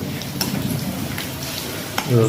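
Bay leaf, panch phoron and dried chilli frying in hot oil as the tempering for Bengali khichuri, giving a steady close sizzle with a few light stirring scrapes.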